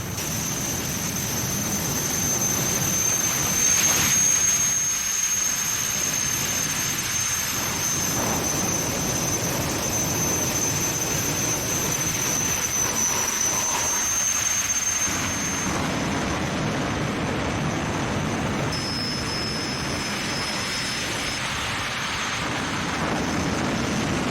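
A jet-powered funny car, built for speeds near 300 miles per hour, roars steadily and loudly for over twenty seconds, a broad sustained rumble with a high whine, heard alone with no speech.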